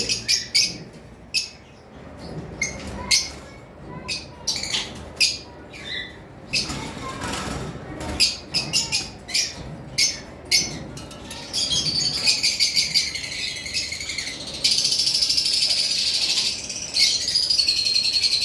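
Baby lovebirds in a caged breeding setup give a run of short, sharp chirps and calls in quick bursts, followed by a steadier high trilling that carries on to the end.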